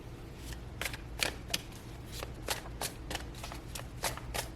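A tarot card deck is shuffled in a rapid series of crisp riffles and flutters, close and fairly quiet, repeating rhythmically over a low background hum.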